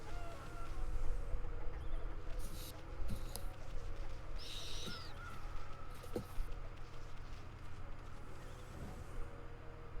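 Birds caw in the video game Okami: a few short, scattered calls rise over a steady game background, with no voices.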